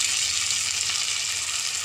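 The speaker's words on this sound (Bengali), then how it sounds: "এর মধ্যে আমরা দিয়ে দেব আদা রসুন কাঁচা লঙ্কা বাটা," Onion frying in hot oil with ginger, garlic and green chili paste for a mutton kosha, giving a steady, close, even sizzle that holds the whole time with no speech.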